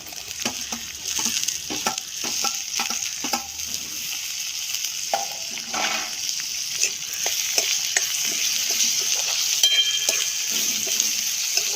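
Tomatoes fry in a pan at close range, a steady hissing sizzle throughout with frequent scraping stirs and clinks of a spoon against the metal.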